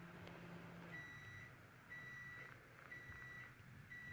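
A Nesco smart canner beeps while heating water, in a slow, regular pattern, four evenly spaced tones, faint over a low background hum.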